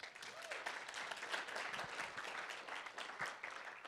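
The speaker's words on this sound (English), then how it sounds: "Clap for yourselves." An audience claps for itself at a talk, giving steady, moderately dense applause that runs throughout and is recorded quietly.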